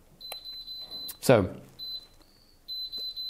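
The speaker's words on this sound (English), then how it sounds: "those beeps you were hearing are warning me that its buffer has filled up" A 1985 Brother WP-1 word processor sounds repeated steady electronic beeps as its buffer fills, a clear tone coming in several bursts, with a brief spoken word in between.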